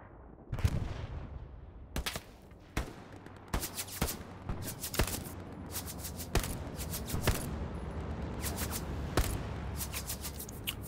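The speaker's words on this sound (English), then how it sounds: "Taking shots from the southeast as well." Gunfire in a military video game: sharp single shots and short bursts crack at irregular intervals, some close and loud, others more distant, over a low steady background rumble.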